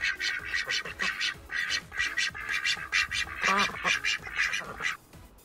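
A duck or goose on river water quacks in a rapid, steady series of loud, close calls, one after another with little pause.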